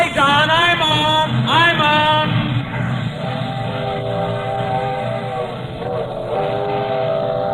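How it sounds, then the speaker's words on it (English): A train moves along with a steady rumbling roll, and a loud whistle or horn sounds early on and again later; a continuous close mechanical din with tonal blasts over it. "The train's moving."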